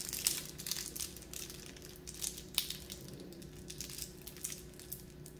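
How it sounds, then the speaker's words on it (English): Adhesive tape from a henna kit crinkles and crackles as it is handled, in soft, uneven rustling bursts close by with no talking. "I take one tape and close it like this"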